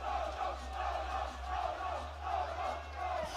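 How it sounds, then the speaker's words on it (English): A crowd of French fans at a powerlifting championship cheering and chanting in a rhythmic, pulsing roar, heard at a distance over a steady low hum. "The crowd on their feet, the French fans cheering."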